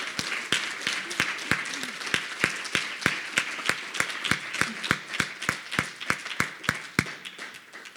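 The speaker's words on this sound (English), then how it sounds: "I want to just give all three of our student speakers another round of applause." A small audience claps for student speakers, the hand claps sounding distinct and fairly regular rather than blending into a dense roar, steady for several seconds.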